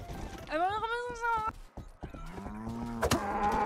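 Cattle lowing in the video game Rustler: one long harmonic moo rising and holding, then a second lower, steadier moo after a pause, heard close over game ambience with hoof-like knocks, while someone talks quietly.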